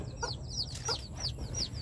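Young chickens, a cross between fighting cock and bantam, give a quick run of soft, high clucks and chirps, several in close succession. The calls are faint and close, with no talk over them.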